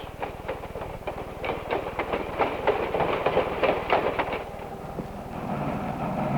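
A 130-ton 1934 Baldwin Mallet steam locomotive hauling log cars rolls past with rhythmic clattering of wheels over rail joints and a heavy chugging rumble, steady and fairly close.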